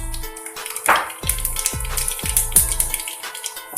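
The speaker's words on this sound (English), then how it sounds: "Now it has started spluttering" Methi seeds pop and splutter in hot oil while curd rice is being made, with a run of sharp crackles and small bursts over a low sizzle, close and fairly loud.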